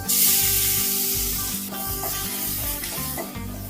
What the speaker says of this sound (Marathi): एक ते दोन मिनटं फक्त हे तेलामध्ये आपण परतायचं